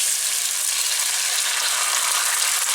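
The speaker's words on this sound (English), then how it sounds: "frying myself a couple of eggs" Eggs frying in a pan give off a steady, dense sizzle that carries evenly through the whole stretch, close by and continuous, with no voices over it.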